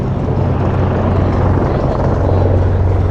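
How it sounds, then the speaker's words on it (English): Helicopter landing nearby on a Hong Kong waterfront, a loud, steady low rotor thrum and engine drone filling the whole stretch without letup or talk. "there's a helicopter landing on the other side"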